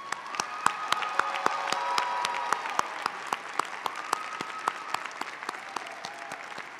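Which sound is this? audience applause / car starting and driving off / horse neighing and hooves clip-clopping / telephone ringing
audience applause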